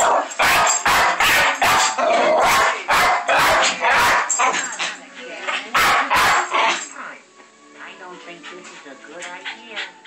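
A Jack Russell terrier barks at a TV showing a cats-and-dogs movie, a rapid burst of loud, close, sharp barks in quick succession, then quieter whimpering under film dialogue.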